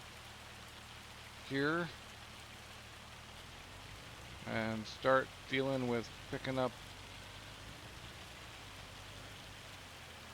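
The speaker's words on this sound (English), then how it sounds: "Hopefully it stops hailing soon." Hail falling in Farming Simulator 25 gives a steady, even patter of pellets across the whole stretch, with someone speaking briefly over it.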